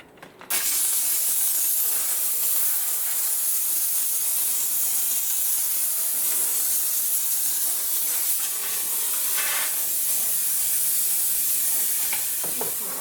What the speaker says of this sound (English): So let me just steam clean my vent hood.